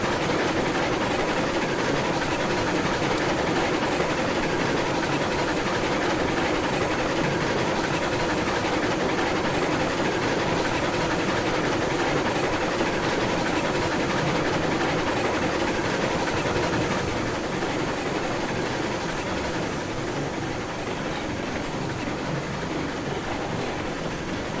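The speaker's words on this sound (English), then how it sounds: "you gotta listen to your engine. I mean, if it's getting loud like that, then you throttle back." A locomotive engine in the railway game Railroads Online runs loud and steady for about 25 seconds, a continuous heavy rumble and mechanical drone with no letup and no talking.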